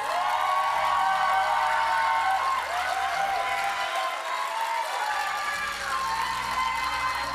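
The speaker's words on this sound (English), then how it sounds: "Give them a round of applause" Audience applause and cheering at the 2023 Miss Earth USA pageant as the top five contestants are presented, a sustained wash of clapping from a large crowd that holds at steady loudness throughout.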